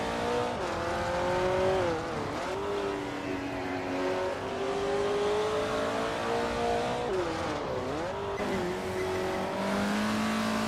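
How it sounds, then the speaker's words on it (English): Vintage race cars, including a 1970 Pontiac Firebird Trans Am, racing on the short Autumn Ring Mini track in a video game, engines droning and shifting pitch together in a tight pack with brief tire squeals, steady and moderately loud. "The race seems competitive with a tight pack of vintage cars."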